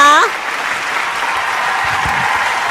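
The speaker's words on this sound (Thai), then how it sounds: "อ่านะคะเดี๋ยวพี่แซมพี่หวานลุกขึ้นยืน รับเสียงปรบมือนิดนึงนะคะ" A large audience at a Thai Amway diamond rally bursts into steady, dense applause right after a brief amplified voice, holding at a constant loud level to the end.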